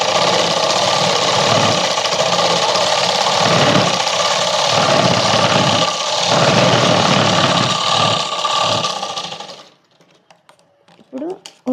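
A sewing machine runs zigzag stitches over a straight seam on a child's night dress, whirring loudly and continuously with rhythmic pulses for about ten seconds before stopping, followed by a few quiet handling noises.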